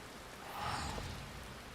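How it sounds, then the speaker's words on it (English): Soft, steady rainfall in Final Fantasy XIV, faint and continuous with a gentle swell in the middle. "I love that it's finally raining."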